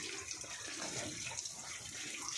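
Water pours steadily from a hose or tap while a pig pen is washed, a continuous close rush and splatter with no pauses or voices.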